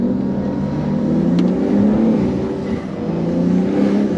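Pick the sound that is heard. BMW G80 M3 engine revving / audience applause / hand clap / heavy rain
BMW G80 M3 engine revving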